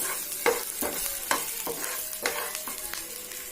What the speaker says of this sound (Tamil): 150 கிராம் இஞ்சி, கொஞ்சம் புளி போட்டு நல்லா ஃப்ரை பண்ணலாம்.